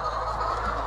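Free-range chickens on a small farm cluck in a short, close burst of fowl calls, under a second long, with a low background rumble.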